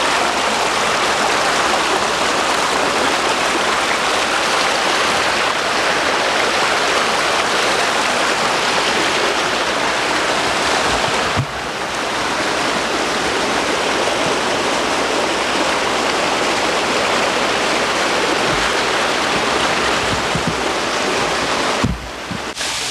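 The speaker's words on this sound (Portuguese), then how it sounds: "Vocês estão notando que é a cascata do roncador." Continuous roaring rush of cascading water at the Cascata do Roncador waterfall, loud and close, steady throughout with only slight shifts in intensity.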